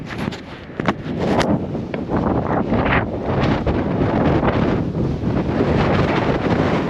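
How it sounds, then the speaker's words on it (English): Strong South Dakota storm gusts buffet an uncovered microphone in loud, rumbling blasts, a continuous roar of wind noise with brief sharper bursts near the start. "show you guys how doggone windy it is"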